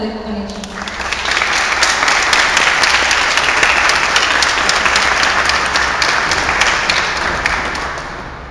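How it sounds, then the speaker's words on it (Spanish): Loud audience applause at a talk about a transformer, starting as a voice finishes and swelling within a second into a dense, sustained roar of clapping that holds steady before easing slightly at the end. "Le damos un fuerte aplauso"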